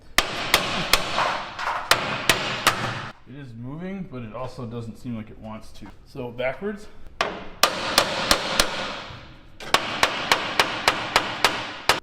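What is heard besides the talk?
hammering on metal cross member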